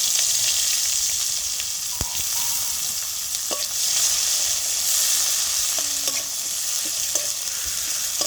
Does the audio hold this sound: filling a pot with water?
no